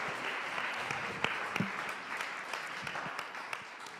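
Audience applause after a performed piece, a steady patter of clapping from a modest group, continuous and fairly close, with a few louder individual claps standing out.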